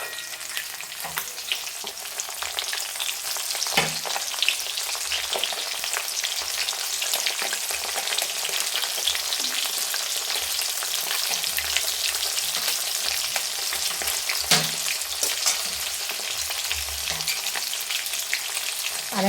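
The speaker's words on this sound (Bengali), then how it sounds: "তো মাছগুলো এক সাইডটা ভাজা হয়ে গেছে, এবার আমি পাল্টি করে নিচ্ছি আরেক সাইডটা।" Fish pieces fry steadily in a pan for a tomato fish curry, a dense continuous sizzle with occasional stirring scrapes and clinks, close and fairly loud, with no talking.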